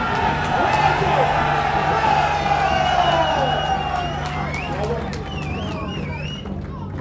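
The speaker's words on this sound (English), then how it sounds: "Massive crowd here from Slough tonight. Very vocal, supporting their guy in red." A large, vocal crowd from Slough roars continuously at a cage fight night, backing their fighter in the red corner; the dense crowd noise runs throughout under an announcer's voice.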